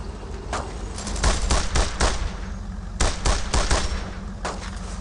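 Bursts of rifle and machine-gun fire ring out in a World War II battle in a video game, clustered volleys of sharp shots over a low rumbling backdrop, loud and close.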